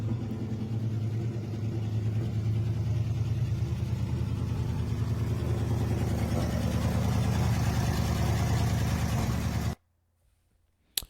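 A 1963 Studebaker V8 car engine idles with a deep, steady rumble close by for about ten seconds, then cuts off abruptly into near silence with a brief click.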